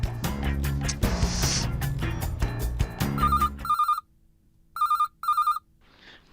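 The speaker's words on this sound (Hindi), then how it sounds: "नट्टू काका सेठ जी का फोन" A telephone bell rings in bursts, first over loud music, then alone in near silence with two more short double rings.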